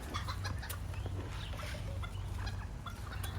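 Several hens cluck softly and intermittently against a steady low rumble, close by on a farm, without speech.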